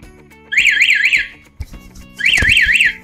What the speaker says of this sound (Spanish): aquí les voy a enseñar en que en efecto trae alarma.